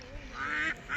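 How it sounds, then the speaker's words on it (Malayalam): A duck gives a short nasal quack, then a second brief one, outdoors on a Hatta, Dubai trip, with faint background murmur. "സോറി താറാവ്."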